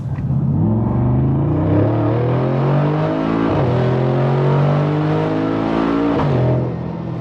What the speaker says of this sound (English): watch what happens when I accelerate with the car now